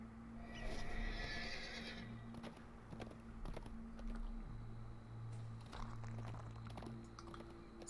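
A horse neighs and whinnies faintly amid low steady hum and scattered clicks, with soft shuffling movement in the background.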